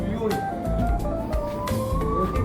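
Police car siren wailing in a street, a moderately loud rising and falling tone sweeping continuously over traffic rumble and background noise.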